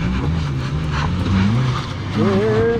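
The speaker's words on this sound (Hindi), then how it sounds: "अपनी गाड़ी को ऊपर चढ़ाते हुए जिप्सी की पावर" Maruti Gypsy engine revving hard while climbing an offroad slope, a loud steady drone whose pitch rises and falls as the throttle changes, with tyre noise mixed in.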